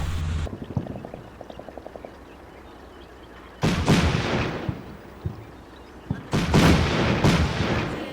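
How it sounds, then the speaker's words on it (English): Bursts of automatic grenade launcher fire in the Combat Mission wargame: a quick run of light rhythmic thumps, then two loud, heavy booming salvos with rolling echo, separated by a quieter stretch. "From an automatic grenade launcher."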